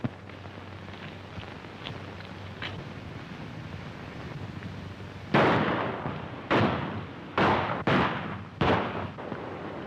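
Gunshots in a western film shooting contest: after a stretch of hiss, five loud, sharp reports ring out about a second apart, each with a short decaying tail.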